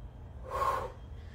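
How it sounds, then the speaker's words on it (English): A person breathes out forcefully during a weightlifting warm-up with light weights, producing a single short, breathy exhalation that swells and fades in under a second against a low background hum. "Breathing out."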